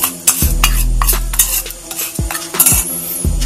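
A spoon grinds camphor into powder with sharp, clinking scrapes and taps against a hard bowl, several irregular close strokes in quick succession.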